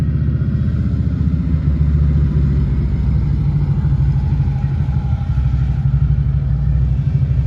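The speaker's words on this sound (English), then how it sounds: "There's always a lot of bikes up in this area." Motorcycles roll past on a winding road in the Sierra Foothills, with a steady, loud engine rumble and rising and falling revs close by.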